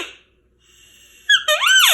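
A hard-to-blow elk call gives a few squeaky, wavering high-pitched notes, rising and bending in short bursts, close and fairly loud with no talk.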